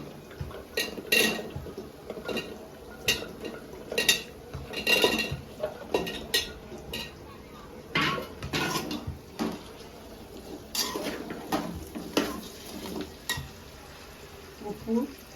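Drumstick pieces go into a cashew curry in a cooking pot, and a ladle stirs them with repeated close metallic clatters and scrapes against the pot over a soft sizzle.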